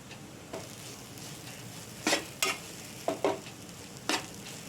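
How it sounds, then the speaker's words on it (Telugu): Chili powder mixture for chinta chiguru karam fries in a pan under a soft, constant sizzle, broken by several sharp scraping strokes of a spoon stirring it, close and fairly quiet. "ఇలా 2 మినిట్స్ పాటు ఉడికించుకోవాలి. పచ్చి వాసన పోయేంత వరకు వేయించుకోవాలి."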